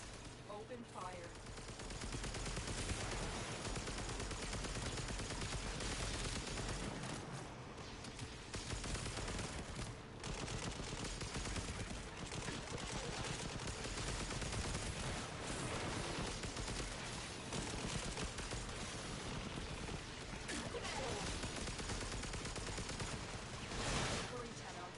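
Sustained automatic gunfire rattles through a Warframe battle, dense and continuous for the whole stretch, layered with game effects and a voice speaking over the shooting.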